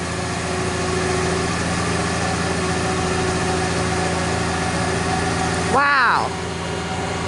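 A truck engine runs steadily at idle on a pole barn building site, a constant low rumble throughout, with a brief swooping tonal sound near the end rising over the drone.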